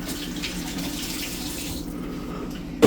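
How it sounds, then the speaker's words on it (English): Tap water runs steadily into a sink as hands are rinsed, a constant close splashing stream that ends with a brief louder clatter. "I'm just going to rinse my hands a little bit"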